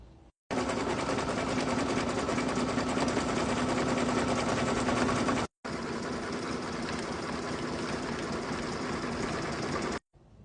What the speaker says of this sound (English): we're going to return to the machine and start doing satin stitches